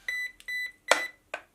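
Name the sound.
beeps from RC car electronics switching on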